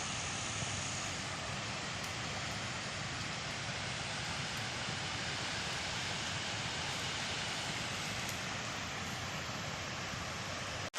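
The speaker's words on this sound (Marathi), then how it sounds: "सकाळीपेक्षा पाण्याचा आता आवाज ना भरपूर जोरात येतोय बघा" A powerful, continuous roar of a flooded river rushing during a Konkan rainstorm, loud and unbroken throughout, with no talking.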